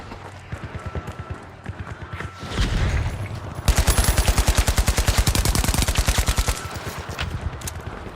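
Rapid automatic gunfire from a player's weapon in a shooter video game, a dense burst of evenly spaced shots that runs loud for about three seconds, with lighter single shots before and after.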